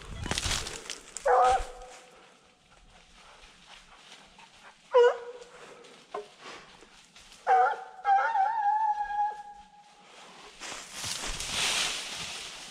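Hunting dogs give scattered yelps, whines and drawn-out howls in woodland during a wild boar hunt, heard at a distance with quiet gaps between bursts and faint low background noise.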